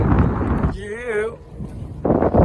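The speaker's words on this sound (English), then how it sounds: "This wind's turned me up though." Wind buffeting a microphone outdoors, loud low rumbling gusts at the start and end, with a voice talking in between.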